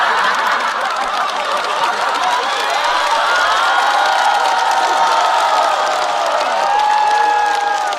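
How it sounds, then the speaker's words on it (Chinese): A live stand-up comedy audience cheers and laughs in a dense, continuous roar that stays loud and fairly even for the whole stretch, with scattered shouts rising above the crowd. "我听到后半段欢呼不是给我的啊"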